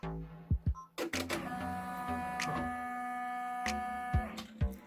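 An embroidery machine stitches elastic onto a pleated face mask, a steady whirring hum with rapid mechanical clicks and thumps of the needle, close and loud, starting and stopping in short bursts.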